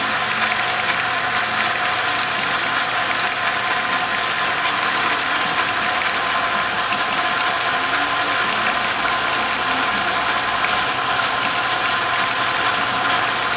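A South Bend 9 lathe running in reverse after a gear change at the headstock gives a steady, loud mechanical whir with a fine, constant gear chatter that never pauses.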